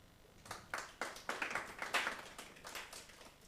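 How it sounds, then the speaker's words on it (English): Audience members at a climate change symposium on a Ugandan university campus clap together, a scattered, moderately faint patter of hands that swells and fades over a few seconds with no talking. "Okay, another hand of clap."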